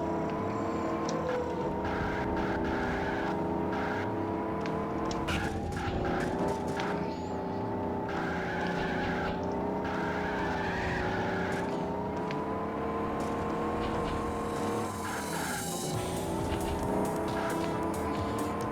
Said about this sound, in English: both Kit and KARR are technically Pontiac Trans Ams